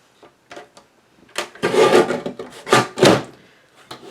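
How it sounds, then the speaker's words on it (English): A few light scrapes, then a loud rasping crunch as a paper trimmer blade slices through thick chipboard in two strong strokes, close by. "And it cuts it, I know it sounded loud, but it cuts it, gives it a clean cut"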